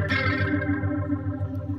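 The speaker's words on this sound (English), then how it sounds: "there's some chorus and some rotary." An electric guitar played through a Headrush unit with chorus and rotary effects rings out as a sustained, shimmering chord with swirling warble, loud and close, slowly decaying, with no talking.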